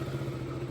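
A motorcycle engine idling with a faint, steady low drone and even pulsing, brief and continuous with no voices.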